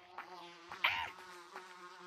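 Buzzing insect drone like bees, a thin steady hum with a brief louder swell, close and alone.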